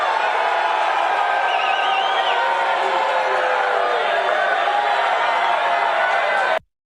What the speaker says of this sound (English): roaring into applause and shouting and hollering there after Trump made that campaign promise